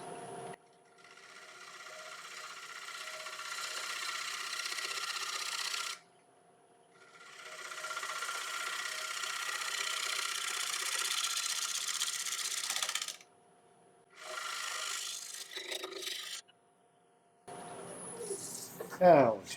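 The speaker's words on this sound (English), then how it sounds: "So again, little 1-inch shear scraper." A 1-inch shear scraper cuts an oak platter turning on a wood lathe, making a steady hissing scrape in long passes of several seconds separated by short pauses, close and fairly loud.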